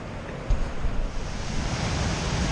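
Upper Falls waterfall on the way to Devil's Kettle in Minnesota roars as a loud, steady broadband rush of falling water with no pauses.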